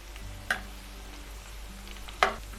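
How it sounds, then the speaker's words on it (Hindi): Onions frying in a small amount of oil give a quiet, steady sizzle, broken by two sharp clicks of stirring, heard alone without talk. "ऑयल बिल्कुल थोड़ा डालना है। हम इसे लाइट ब्राउन करेंगे।"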